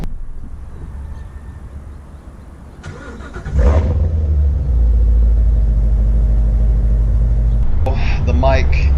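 C7 Z06 Corvette engine catching and settling into a deep, loud, steady rumble close by as the car gets ready to drive off, with a brief higher whir near the end.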